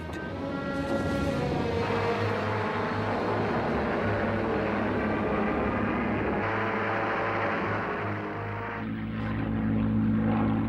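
World War II fighter aircraft, RAF and Luftwaffe, roar overhead with a loud, continuous propeller engine drone that swells and shifts pitch over about ten seconds, with no speech.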